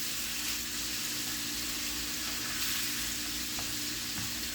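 Beef steaks searing in a hot pan for Beef Wellington, a steady, close sizzle that holds evenly throughout with faint scrapes and clinks underneath.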